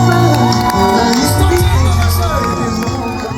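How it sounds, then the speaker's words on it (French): Festive crowd at a 50th birthday celebration in Corbeil-Essonnes cheering, shouting and whooping with joy, a loud continuous roar of voices with applause mixed in, close and dense throughout. "On les applaudit, on les applaudit, on les applaudit, les cris de joie."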